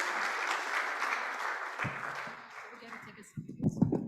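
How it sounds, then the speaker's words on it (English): Audience at a youth innovation forum giving a round of applause, a full burst of clapping that thins out midway, with voices and stray handling noises near the end. "Can we give them a round of applause?"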